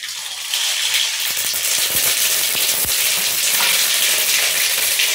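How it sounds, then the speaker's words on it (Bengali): Black mustard seeds hit hot oil for tempering, a steady close-up sizzle that swells after a brief quiet start, dotted with sharp pops and crackles, with no voices. "হয়ে গেছে, ফোড়নের সরষে দিয়ে দেবো"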